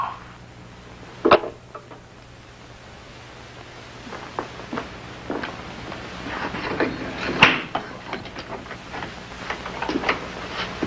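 A door opens to admit a visitor in an old radio drama, a sharp latch click, then quieter handling and rustling, followed by a second clack as it moves, all against a low steady hum.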